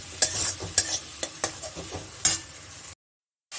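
A fried spice mix with half a large tomato sizzles in a pan while a spoon knocks and scrapes in an irregular run of sharp taps, then the sound cuts to silence before a brief return of frying.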